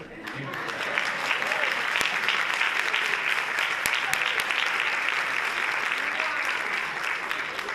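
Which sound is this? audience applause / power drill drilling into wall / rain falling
audience applause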